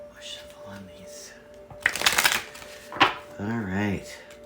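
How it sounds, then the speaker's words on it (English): A deck of oracle cards is shuffled in two quick riffling bursts, close and crisp, with a voice speaking briefly around them. "One more shuffle on these."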